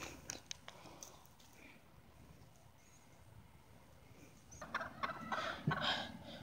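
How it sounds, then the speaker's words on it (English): A rooster clucks and squawks in a video game, its calls coming in quick, scattered bursts that grow busier and louder toward the end over a soft background hum. "The rooster's on the attack."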